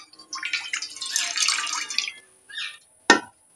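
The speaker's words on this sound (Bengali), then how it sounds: "চিনির রসটা আমি বানিয়ে নেব, তার জন্যে জল দিয়ে দিচ্ছি।" Water pours into a pot for sugar syrup in a close, trickling stream lasting about two seconds, followed by a brief splash and a sharp clink.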